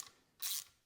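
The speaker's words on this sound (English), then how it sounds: "We're going to go ahead and run these bolts in." A short, faint burst of ratchet clicking from a ratchet running in bolts on a Porsche 911, a single quick sequence heard alone.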